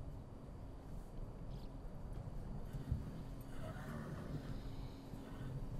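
Horses in the Central Asian wild, pestered by swarms of biting insects, give an occasional whinny through a steady, noisy outdoor background.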